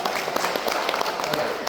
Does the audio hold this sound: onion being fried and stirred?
no